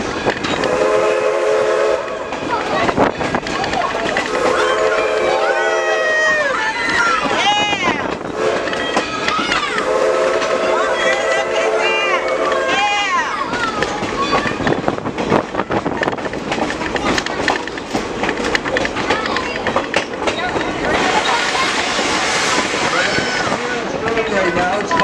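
A steam locomotive at Greenfield Village, Dearborn, Michigan, performs a running blowdown, hissing and roaring with a continuous blast of escaping steam, while whistle tones and voices come and go over the rumble.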